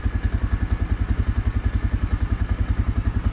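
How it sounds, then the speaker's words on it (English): An ATV engine is held at high revs in a snowy winter forest at about -10 degrees. It makes a close, steady, rapid thumping pulse that runs unbroken with no voices. "I tried to charge the battery by running the ATV at high revs"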